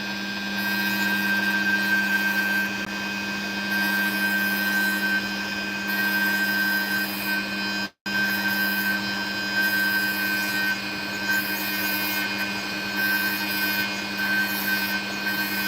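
Steady grinding drone of a rotary tool trimming an opal gemstone, a constant buzzing whine with a sustained hum underneath, running close and loud without pause apart from one brief cut-out midway.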